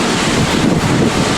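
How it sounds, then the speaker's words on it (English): Strong wind on the Chevron Alba offshore oil platform roars and buffets the microphone in a steady broadband rush, with the wash of surf or open water faintly beneath it. "Oh, it's windy."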